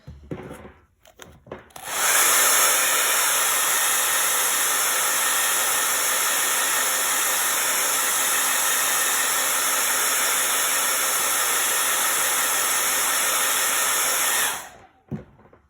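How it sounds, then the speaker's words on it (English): Steady loud whoosh of a hair dryer blowing on wet paint on a spring gnome craft, switching on after about two seconds and running continuously until it cuts off near the end. "I'm gonna blow dry it."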